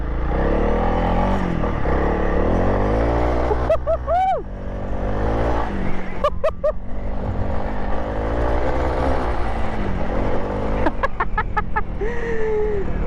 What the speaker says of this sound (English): Just gonna do a bit of an acceleration test.